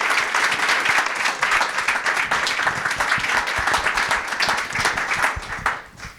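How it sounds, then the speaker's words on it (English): An audience applauds a panel at a RUSH Road Home 2022 program event, sustained dense clapping from a crowd that stays loud and steady for several seconds before tapering near the end. "Let's give them a round of applause"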